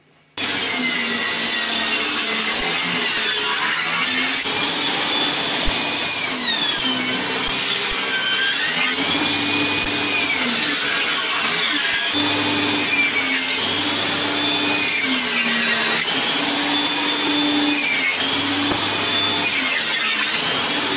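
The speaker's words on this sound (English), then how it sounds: "to start with I'm just going to rough cut it on the table saw" A table saw rough-cutting a wooden panel, running loud and continuous at close range with a steady motor whine that rises and falls as the blade bites the wood, and no voices.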